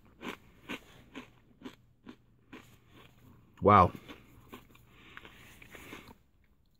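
Close chewing crunches of fried, barbecue-seasoned dried corn snacks from a 2015 U.S. military MRE, a steady series of small crisp bites with one loud crunch midway and a brief exclamation.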